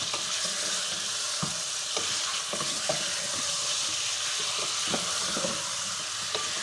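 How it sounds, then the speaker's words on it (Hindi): Masala sizzles and fries steadily in a pan with salt added for chicken korma, a continuous bright crackle broken by scattered scrapes and taps of a spoon stirring it, close up and without voices. "इसको अच्छे से आप भून लेंगे"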